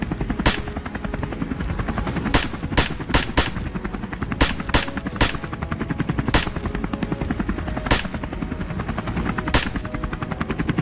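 Helicopter engine drones steadily and loudly throughout over a jungle hunting scene, with repeated sharp gunshot-like bangs cutting in at irregular intervals.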